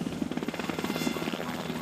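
Helicopter flies overhead with a rapid, pulsing rotor chop and buzzing engine whine, steady and fairly close throughout.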